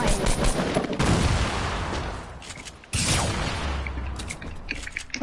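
Rapid gunfire bursts from the Fortnite video game, loud and dense with repeated shots and a sharp break midway, continuing without pause.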